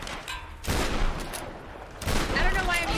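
Bursts of gunfire in the video game Tomb Raider come as two loud rattling volleys, close and harsh, separated by a short lull.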